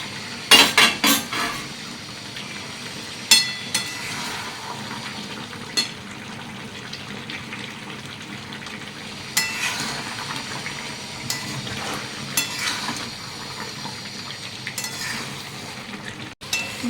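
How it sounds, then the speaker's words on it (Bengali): Chicken being stir-fried in a pan with capsicum and chillies, with repeated sharp clinks and scrapes of a spatula against the pan over a steady low sizzle, close by and with no talk. "মাংসের জল অনেকটা শুকিয়ে এসছে, একটু ভালো করে একটু কষে নেব তেল ছাড়া পর্যন্ত।"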